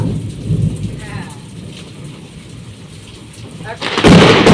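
Heavy rain pours down with wind in a steady, dense hiss, then swells into a loud, roaring gust near the end that drowns everything else out.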